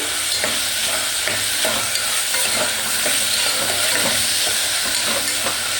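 Steady sizzling of tomatoes frying in a pan, with faint stirring scrapes recurring through it, close and continuous, no talking.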